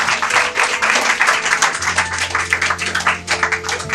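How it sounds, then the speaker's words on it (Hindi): A church congregation at an Easter Sunday service clapping loudly together, a fast, dense patter of many hands sustained for the full few seconds, close and energetic. "आइए जोरदार ताली बजाकर हम प्रभु को"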